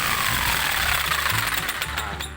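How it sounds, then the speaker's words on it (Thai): Electric jigsaw cutting a small piece of wood: a harsh, rapid buzzing rattle, loud and close and sustained, with the pitch shifting slightly as the blade works through. "อันนี้จะมา ตัดไม้นี่ชิ้นเล็กๆกันก่อนนะครับ"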